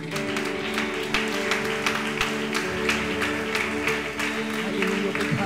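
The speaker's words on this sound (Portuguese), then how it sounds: "Aplauda o nome de Jesus, irmão, ele é digno." A church congregation applauds in praise, continuous clapping blended with a sustained organ or keyboard tone underneath, steady and fairly loud with no distinct voices.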